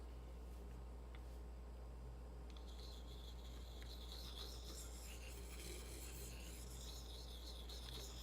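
A knife blade scrapes across a natural rock used as a sharpening stone, a faint, steady grinding rasp over a constant low hum, with repeated strokes growing more distinct partway through.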